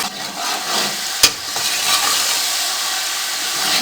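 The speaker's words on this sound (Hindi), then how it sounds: "अब इसको हम 3 से 4 मिनट के लिए अच्छे तरीके से इसकी भुनाई कर लेंगे।" Cumin, cinnamon and black cardamom roast in a pan with a loud, close hiss of frying, a single sharp knock early on, then a steady sizzle with faint stirring; no voices.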